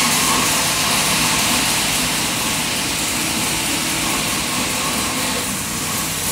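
A Smeding 632-cubic-inch big block Chevy, built for about 1,000 hp, idles on a dyno, a loud, dense and constant engine roar that fills the space and holds steady throughout.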